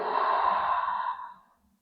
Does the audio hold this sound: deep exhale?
yes